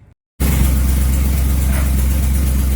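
A car fitted with an LS swap engine abruptly starts, then settles into a loud, steady, close idle with a deep rumble.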